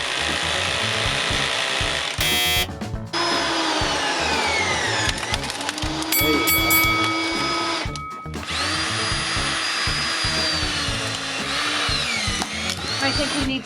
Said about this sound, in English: I'm gonna go switch to a different drill